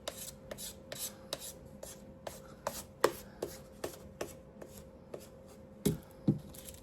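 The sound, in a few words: sander sanding edges of a craft piece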